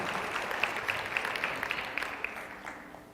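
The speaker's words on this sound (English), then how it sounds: "Can we get another round of applause for Sam and Rock You?" Moderate applause from an audience at a high school information night, a scattered patter of clapping that slowly fades over a few seconds.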